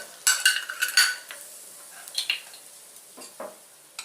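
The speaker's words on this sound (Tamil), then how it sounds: "இப்போ இந்த முந்திரி பருப்பை நெய்யோடு இதில் போட்டுட்டு" Cashews tossed in ghee in a pan and stirred, giving bright metallic scrapes and clinks from a spoon against the pan in quick bursts early on, then a softer shuffle and a couple of lighter scrapes near the end, with no talking.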